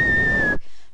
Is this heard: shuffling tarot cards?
no